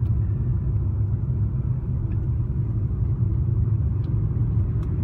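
Steady stream of cars passing on a road near a new-construction neighborhood about five minutes from town, a constant low rumble of tires and engines close by, with no talking.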